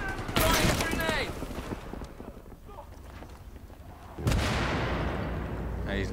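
A grenade explosion and gunfire in Battlefield 3, with a loud blast near the start, scattered shots and rumble, then a second heavy boom later, while voices talk over the combat.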